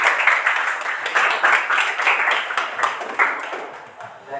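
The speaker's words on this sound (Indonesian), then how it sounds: "Ya, kita tepuk tangan dulu untuk Dila." Classroom applause for a student named Dila, a burst of fairly close, uneven hand clapping from a group of students that fades slightly toward the end.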